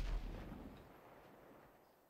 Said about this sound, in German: Stormy, hast du da zu spät die Bombe abgelegt, oder